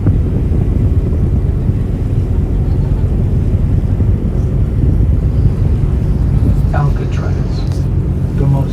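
An Alcatraz Cruises ferry under way in the wind gives a heavy, continuous low rumble of engine and buffeting air, with a voice speaking briefly near the end.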